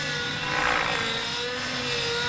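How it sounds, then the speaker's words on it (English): Steady drone and rotor whir of a radio-controlled helicopter flying a tick-tock aerobatic maneuver, a continuous broadband buzz that swells briefly early on and stays constant without speech. "What you see here, the helicopter is being thrown back and forth."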